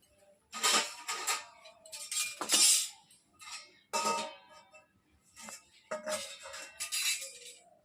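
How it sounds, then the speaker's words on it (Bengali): An iron kadai wok is set on a lit stove, giving a series of close metallic clanks and scrapes in irregular bursts with brief quiet gaps between them. "এবার কড়াইটা বসিয়ে দিই"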